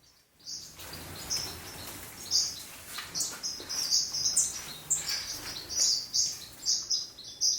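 A male aviary bird calls to a nearby female, repeating bright, high chirps in quick bursts over a faint background hum, fairly soft and steady.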